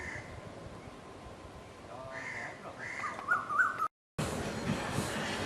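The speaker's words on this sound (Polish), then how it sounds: "Wokół słychać śpiew ptaków, odgłosy ptaków" Several bird calls and chirps ring out over a dull outdoor background hum, faint to moderate, with a short gap of silence near the end, in the Maldives.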